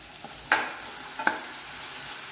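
Sweet potato sautéing in a pan with salt: two quick stirring scrapes against a faint, quiet sizzle, no voices.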